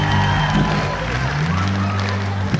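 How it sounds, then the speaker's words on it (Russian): A concert audience at a House of Culture in Tlyarota, Dagestan claps and cheers in a dense, steady wash of applause, loud and continuous with crowd noise and some voices mixed in. "Аплодисменты!"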